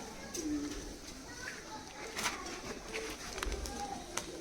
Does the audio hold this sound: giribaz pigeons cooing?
yes